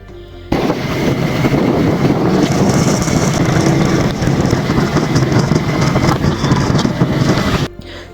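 Motorbike engine and wind rush while riding on a gas bike, a loud, steady broadband roar filling nearly the whole stretch, cutting in abruptly at the start and dropping away just before the end.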